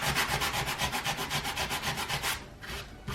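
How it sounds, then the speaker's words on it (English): Sandpaper rubbing back and forth over a secondhand thrift store wooden piece, smoothing raised splinters of wood in steady, close, rhythmic strokes, briefly easing off near the end. "I'm just gonna sand down"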